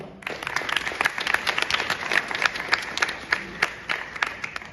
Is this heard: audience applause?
yes